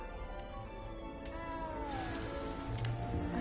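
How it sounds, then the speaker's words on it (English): A frightened little cat in the Hogwarts Legacy video game gives a drawn-out, wavering meow over a steady, busy background of game ambience. "You don't need to be frightened, little cat."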